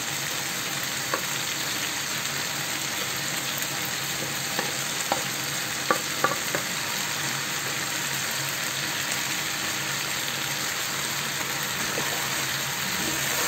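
Chicken karahi fries on a high flame in a deep wok, a steady loud sizzle with scattered scraping clacks of stirring and no talking.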